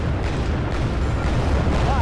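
Abbot self-propelled artillery firing in the game Wargame: AirLand Battle, a dense rumbling barrage of deep booms blending into one continuous roar, loud and steady throughout.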